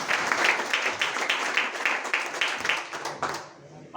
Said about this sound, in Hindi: एक जबरदस्त तालियां इसके लिए।